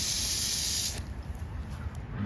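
A steady, loud hiss of water spraying from a garden hose for about a second, then cutting off to a softer, uneven outdoor background.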